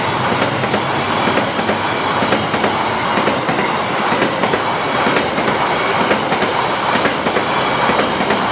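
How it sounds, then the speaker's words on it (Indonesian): A KRL commuter electric train bound for Cikarang rolls into a station up close and loud at night, wheels clattering rhythmically on the rails with a constant rumbling roar throughout. "di sini ada KRL komuter lain tujuan Cikarang masuk di stasiun"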